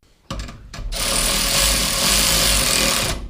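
A Milwaukee M12 half-inch cordless ratchet spins a nut with a buzzing, rattling whir that starts abruptly after a couple of short blips and runs steadily for about two seconds, close and loud.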